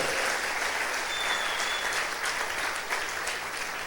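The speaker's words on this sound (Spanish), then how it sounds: "Dale más fuerte ese aplauso al Rey" A congregation at a church service claps steadily, with dense, continuous applause filling a hall at moderate volume.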